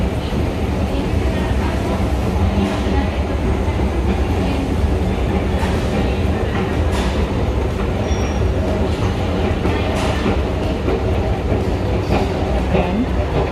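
A Madrid metro train passing through a station, a steady loud rumble and rail clatter filling the whole stretch, with faint brakes and squeals above it.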